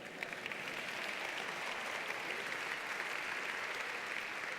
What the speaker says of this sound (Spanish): Un aplauso para Israel.